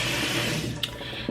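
Tap water runs steadily into a bathroom sink while hands are washed, a loud continuous close rush with a couple of small splashes, and no talking.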